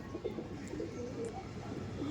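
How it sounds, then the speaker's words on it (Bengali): Rampuri pigeons coo softly in a loft, low murmuring calls rising and falling against a steady background hum. "এটা হচ্ছে ফিমেল পায়রা আর এটা হচ্ছে মেল পায়রা।"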